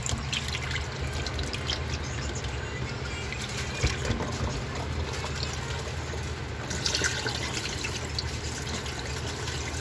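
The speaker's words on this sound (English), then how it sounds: "Rinse off all this nasty stuff into cool water" Cool tap water runs steadily as pork ribs are rinsed in a kitchen, a constant close splashing trickle with no talk.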